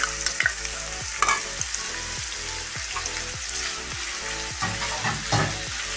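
Ginger garlic paste frying in a pan for an egg rice dish, with a steady close sizzle and regular scraping strokes of a spoon stirring it, no talking.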